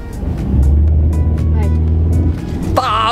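A car engine revved hard while the brake is held, a loud sustained low roar that swells and holds, with people talking over it and a high whine near the end.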